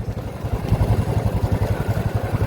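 A motorbike engine near a maize field idles close by with a loud, rapid, even putter of low exhaust pulses, running steadily with no one talking.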